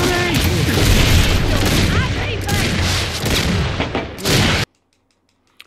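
Dense Gears 5 gunfire and booming blasts crowd the scene for several seconds, loud and close with a voice mixed in, then cut abruptly to near silence.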